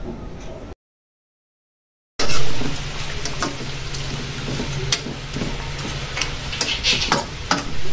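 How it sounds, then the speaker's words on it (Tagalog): A spoon stirs chicken adobo with soy sauce and coconut milk in a pot, giving close scraping and light clicking against a steady low simmer after a short silent gap. "kailangan nating haluin yan para pantay"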